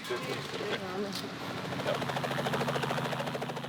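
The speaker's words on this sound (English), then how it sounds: "a Russian machine gun from the First World War" A Russian World War One machine gun fires, a rapid, evenly spaced rattle of shots that starts partway through and continues to the end, after a voice speaks over the opening.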